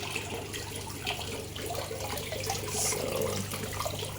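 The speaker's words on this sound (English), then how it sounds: "And this is actually a working water fountain again." A homemade water fountain built from a clay matka pot with a small motor and aquarium bubblers, running steadily with a soft continuous splashing and trickle of water close by, no talking.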